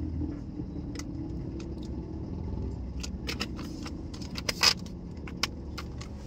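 Road traffic heard from inside a vehicle: a low steady engine and road rumble underneath, with a few faint clicks and jingling rattles near the end, no talk.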